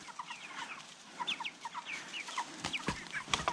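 Chickens and roosters in a coop, a flock with about 16 roosters, cluck and chatter continuously, with many short, overlapping calls close by and a few sharper squawks toward the end.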